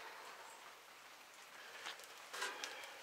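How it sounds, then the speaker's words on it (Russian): Rain falls steadily outdoors on a cold day near freezing, a soft, even hiss with a few louder patters and drips near the end, with no one speaking. "У нас идет дождь и минус один."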